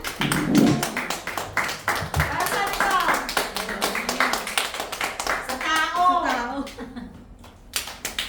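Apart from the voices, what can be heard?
congregation applauding in worship service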